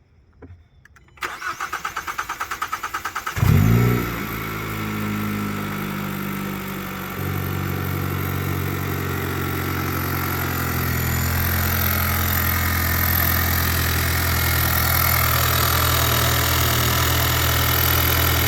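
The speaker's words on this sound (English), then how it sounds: "start the car just to make sure you have no leaks when you got your new pump installed" A Hyundai Elantra N, Kona N or Veloster N with a newly installed high-pressure fuel pump cranks with a whirring starter, fires up with a loud roar, then settles into a steady, throbbing idle close by, with no talk.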